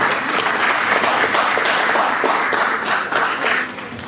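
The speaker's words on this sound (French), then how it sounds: "Merci de les applaudir" An audience applauds the top scorers at a school quiz competition quarter-final, loud, dense clapping from a crowd that stays steady and then eases slightly near the end.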